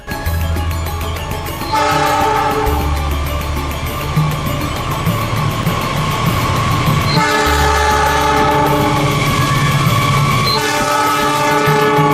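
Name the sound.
passing container train with horn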